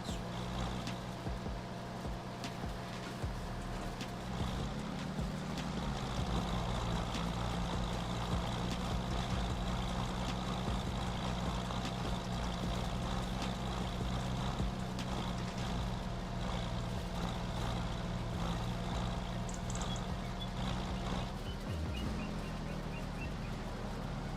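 An in-game engine of a farm vehicle in Farming Simulator 25 runs in a steady low drone, close and continuous, holding an even pitch with a brief dip near the end.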